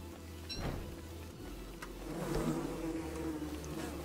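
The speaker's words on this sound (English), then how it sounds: "There's so many bees." Swarming bees buzz in the survival video game Don't Starve Shipwrecked, a steady droning hum that swells and fades over a low engine-like rumble, moderately loud and continuous.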